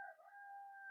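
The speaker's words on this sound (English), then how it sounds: "sounds like that rooster's right outside my window" A rooster crows outside a window, a single faint, sustained tonal call with a slight rise at the start, heard alone and at a distance.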